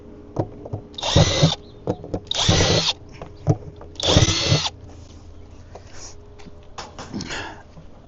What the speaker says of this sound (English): and drill your holes.